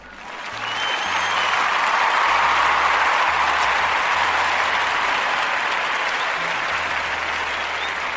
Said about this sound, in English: Let me applaud y'all before I go.